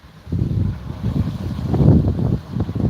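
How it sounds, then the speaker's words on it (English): Wind buffeting a microphone outdoors, low gusty rumbling that swells and fades irregularly, loud and close with no other clear sounds. "The wind is so annoying today."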